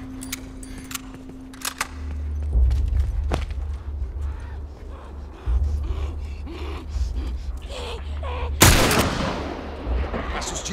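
Gunfire and combat noise in The Last of Us, irregular shots and bursts over a steady low rumble, with a loud sharp blast near the end and faint voices between.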